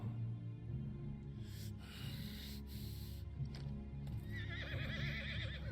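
A horse in the video game Final Fantasy 16 clip-clops along at a steady pace under a low, constant rumble, then gives a wavering whinny near the end. The sound is faint and sits well back in the mix.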